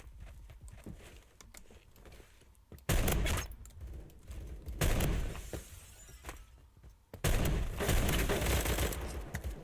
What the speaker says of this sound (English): it's going to be the slow-firing, heavy-hitting auto-shotty